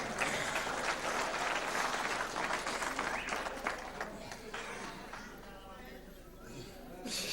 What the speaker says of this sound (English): The applause there for a typical Tibor Szakacs counter move to that double-handed wrist lever.